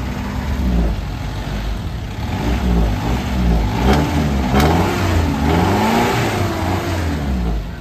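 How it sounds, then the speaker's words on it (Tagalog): A used Isuzu C240 engine in an owner-type jeep revs steadily and loudly up close, its rising and falling harmonics showing repeated throttle blips over a constant idle rumble, with no talking. "Para at least, mapakinggan natin yung bomba ng makina mga boss."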